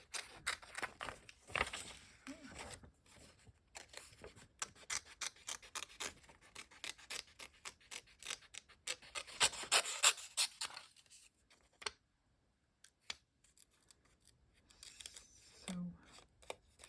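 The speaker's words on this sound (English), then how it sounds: "I had decided for once to fussy cut them out like this. And I have a very good scissor for that." Sharp scissors fussy-cutting fungi-themed paper shapes for a collage envelope book, giving close rustling snips and rasping rubs in irregular bursts, with a quieter gap near the end and a brief low thump.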